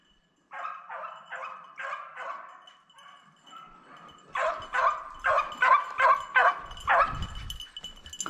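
A hunting dog bays during a snowshoe hare hunt in Nova Scotia, a rapid series of loud barks in bursts from moderate distance, growing louder toward the end.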